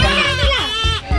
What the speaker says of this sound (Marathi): तिला चाललंय रडणं चाललंय रे